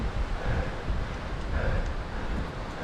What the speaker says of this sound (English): the wind is just smacking straight into the side of it.